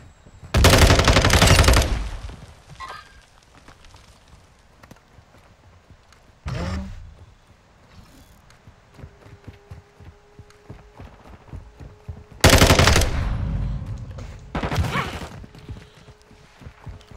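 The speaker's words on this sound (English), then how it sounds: "I want to do rush down with a submachine gun" Submachine gun fire in Call of Duty Modern Warfare 2 multiplayer: several short loud bursts spaced apart, with quieter distant shots and game ambience in between.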